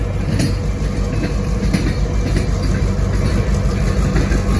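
Norfolk Southern trains roll past on tracks 1 and 2 near Decatur, a loud, steady rumble of wheels and cars with faint rhythmic clatter running throughout, close by and with no voices.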